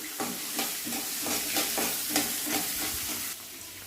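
Soaked peas and cashews fry in a hot pan, a continuous sizzle broken by regular stirring scrapes roughly every half second, close and clear with no talking.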